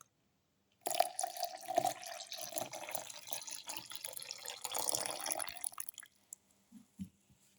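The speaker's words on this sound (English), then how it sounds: "pour in 300 ml of milk" Milk pours steadily into a blender for several seconds, a gurgling, splashing stream that tapers off, followed by a couple of light knocks.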